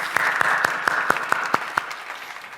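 A small congregation at a church dawn prayer service claps in about eight sharp, evenly spaced beats, a short rhythmic round of applause in a quiet room.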